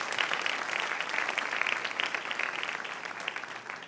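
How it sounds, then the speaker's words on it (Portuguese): A church congregation claps for pastors during a sermon, a dense, sustained round of applause at moderate level that tapers slightly toward the end. "Uma salva de palmas para eles."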